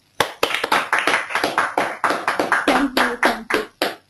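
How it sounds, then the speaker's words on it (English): Seminar audience claps in a quick, sharp, fairly regular run of distinct handclaps over about four seconds, sounding like a few people rather than a large crowd. "We'll have a round of applause"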